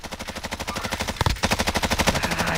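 Rapid hip-fired automatic gunfire in Call of Duty Warzone, a continuous fast stream of loud shots with a brief break near the middle before the burst resumes.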